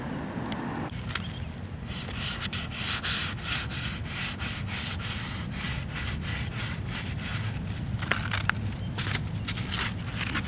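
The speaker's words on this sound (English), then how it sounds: "my primer is dry, so I'm gonna go over it with some 600 grit sandpaper" Dry car primer is sanded by hand with 600 grit sandpaper, giving close, rhythmic rasping strokes that repeat steadily, with a short pause near the end.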